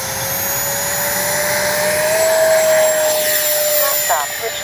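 E-flite 80mm Habu XS electric ducted-fan RC jet on its takeoff run, a loud steady high-pitched whine that climbs slowly in pitch and holds, with a brief flutter near the end.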